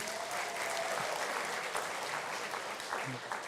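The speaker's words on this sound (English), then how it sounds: "Let's give him a round of applause." Steady applause from an audience at a political party town hall meeting, dense clapping throughout with faint voices and a brief whistle mixed in.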